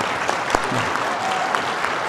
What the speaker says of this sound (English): Can we just give a huge round of applause for everyone who attended and our panellists?